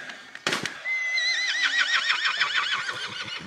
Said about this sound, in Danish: Som I kan se, er hestene inde på campingpladsen, og det er ikke så godt.